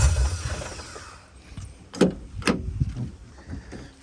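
A Jeep door with a faulty mechanism is worked in a workshop: a dull rumble fades, then two sharp metallic clunks and latch rattles follow close by, with lighter knocks after.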